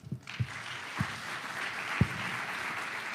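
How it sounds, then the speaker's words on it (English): Steady applause from a crowd, a dense wash of clapping that fills the whole stretch after a few scattered claps at the start. "A warm round of applause for His Excellency for that wonderful speech"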